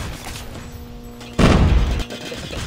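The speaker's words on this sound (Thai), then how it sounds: "ใครมันโยนระเบิด" A grenade explosion in the mobile shooter Call of Duty Mobile lands as a single loud, deep boom that rumbles for about half a second before cutting back to quieter game ambience.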